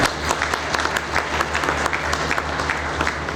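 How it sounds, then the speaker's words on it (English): A crowd claps steadily in lively applause at an inauguration ceremony in Burewala, a dense patter of many hands filling the room. "amidst your big round of applause"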